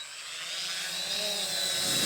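A Quanum XJ470 drone flies fast and low near the ground, its motors producing a steady high whine that builds slightly louder as it passes close.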